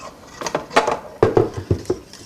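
Eggs and salt being stirred into partly set pudding in a bowl, a run of soft, uneven scraping and tapping strokes that come close and fairly quiet, with no talk.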